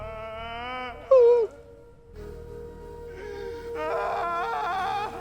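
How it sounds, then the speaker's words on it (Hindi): A woman wails and sobs in drawn-out, quavering moans, clear and fairly near, with one sharp louder cry and a long sustained wailing tone later on. "अभी किसी औरत के रोने की आवाज सुनाई दे रही है हमको"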